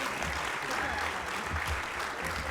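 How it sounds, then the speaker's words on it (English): A crowd at a city awards ceremony claps steadily, dense sustained applause filling the room, with some voices faintly mixed underneath. "Please give him a round of applause."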